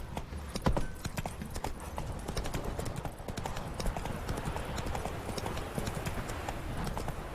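A horse gallops in The Witcher 3, its hooves beating a fast, steady clip-clop rhythm close by throughout, with no voices over it.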